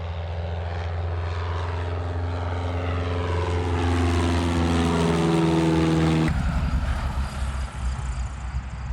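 A propeller airplane arrives at a steep 15% sloped one-way mountain airstrip in Austria. Its loud droning engine rises in pitch and volume as it nears, then cuts off abruptly to a quieter whir, with no talk.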